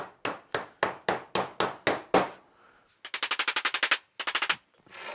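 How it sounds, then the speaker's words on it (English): A rubber mallet taps the wooden parts of a budget WBC beehive lift together: a steady run of about eight evenly spaced close knocks, a short pause, then two quick rapid-fire bursts of taps. No one speaks. "with your rubber mallet just tap it down"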